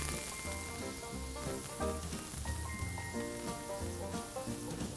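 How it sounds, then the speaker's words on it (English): A bathua paratha roasts on a hot pan, giving a steady, dense sizzle and crackle that runs throughout, with tonal background music layered over it. "Once it's roasted on one side,"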